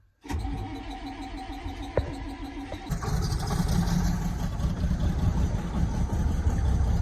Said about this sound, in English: we're gonna fire this tractor up, let it warm up